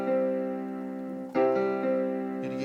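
A piano sounding a sustained C, struck again partway through as the note passes from one thumb to the other, with a clear, steady tone and close, moderate loudness, no talking.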